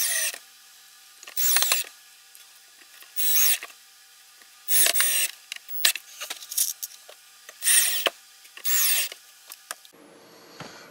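A power drill driving screws into pre-drilled holes in wood while building a tabletop arcade cabinet, several short whirring bursts with quiet pauses and small handling clicks between them.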